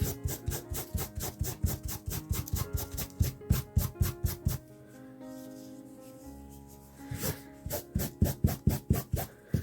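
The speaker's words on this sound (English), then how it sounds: "I'm going to take a scrap of fabric and see if I can rub some of that off." A scrap of fabric is rubbed back and forth over paper in quick, regular strokes, a close scratchy swish repeating in rhythmic bursts. The rubbing pauses briefly midway, then resumes at the same brisk pace.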